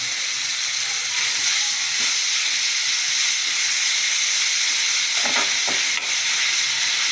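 Curry leaves sautéing in a pan for vegetable kurma, a steady close sizzle and hiss that runs the whole time, with a few brief scrapes of stirring near the end.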